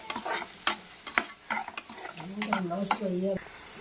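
Tomatoes with salt cook in a pan with a soft sizzle, broken by scattered clicks and scrapes of stirring and a brief tonal squeak of a utensil near the end.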